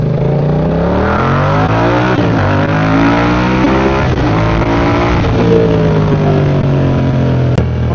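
A Benelli TRK 502X motorcycle engine revs close up, rising and falling in pitch across several throttle blips with a strong, steady, harmonic growl.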